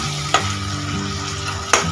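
Soy sauce and red chilli sauce are stirred together in a hot pan for soya chilli, a soft sizzle with two sharp spoon scrapes and a low tonal hum, no voices.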